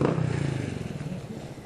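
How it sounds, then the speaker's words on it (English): Noisy motorbikes pass by a beach in Isan, Thailand, with a rough, pulsing engine rattle that is loudest at the start and then fades as they move away. "listening to the noisy motorbikes"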